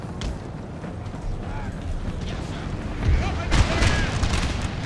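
Dull, booming cannon shots in Napoleon: Total War thud under steady crowd-like noise and speech, with a heavier cluster of blasts toward the end.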